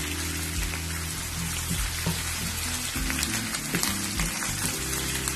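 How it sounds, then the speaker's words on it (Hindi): Green chili paste, one teaspoon, sautéing in a karahi while making beef karahi gosht, a steady close crackling sizzle with scattered pops running throughout, no talk. "ग्रीन चिली पेस्ट डाल रही हूँ। 1 टीस्पून है ये, 1 टीस्पून। इसको भी हल्का सा सौते करेंगे।"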